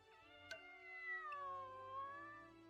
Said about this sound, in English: That cat is annoying.